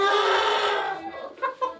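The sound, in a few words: rooster clucking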